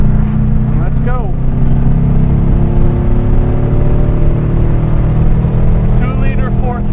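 A 1963 Porsche 356 Carrera 2 coupe with a 2-liter four-cam engine pulls hard on the road, its loud, steady engine note climbing and shifting as it works through the gears, with someone talking over it.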